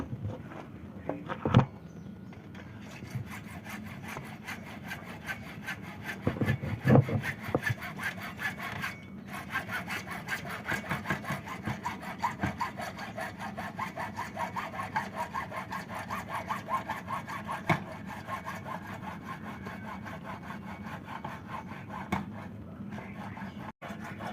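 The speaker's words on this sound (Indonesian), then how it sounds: "Pipa hisap sudah kita potong, tinggal pipa pernafasan." A breather pipe on a Dabavon DB-255A jet pump sawn through by hand, with a long run of rapid, rhythmic back-and-forth rasping strokes, close and steady with brief pauses.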